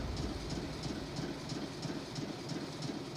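The Flying Scotsman, an LNER A3 Class 4472 steam locomotive built in 1923, rolls along with a steady rhythmic clatter of wheels over rail joints and a continuous loud mechanical rumble, close and without voices.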